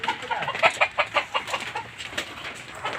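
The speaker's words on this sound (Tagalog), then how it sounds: "Daming itik ah, bibi ah." Chickens and ducks at a poultry vendor, a cluster of clucking and squawking calls in quick succession, fairly near, thinning to a busy background of fowl noise.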